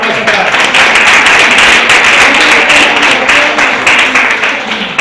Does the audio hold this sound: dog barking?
no